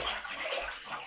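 A bathtub filling with a small amount of water from the tap for a slime bath, a steady broadband rush of running water lasting about a second, close and even in level.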